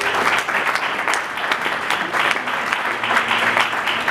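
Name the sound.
congregation applauding and cheering in church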